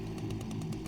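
A chainsaw in the video game ULTRAKILL grinds in a steady, buzzing drone with quick rhythmic surges, close and fairly quiet, heard alone.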